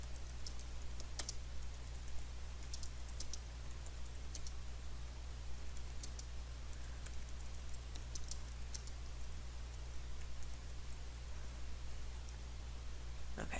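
Quick, light clicking of fingers typing on a computer keyboard, irregular bursts of keystrokes, faint and close, over a steady low electrical hum.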